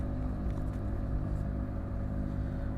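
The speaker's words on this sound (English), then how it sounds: "This car is so noisy, this Renault." A noisy Renault car engine runs steadily with a low, constant rumble, heard from inside the car with no talk over it.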